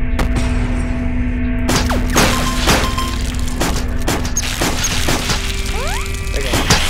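An explosion from the video game 99 Levels To Hell, in a dense run of loud crashing booms and thuds that fill the whole stretch with game sound effects.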